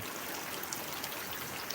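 Steady rushing and trickling rainwater diverted into a borewell for recharge during heavy rain, a continuous broadband flow with no pauses, fairly close and even in level throughout.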